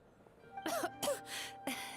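A female Genshin Impact character coughs in a few short, breathy bursts during the Mizuki story quest, faint and close, with a low game hum underneath.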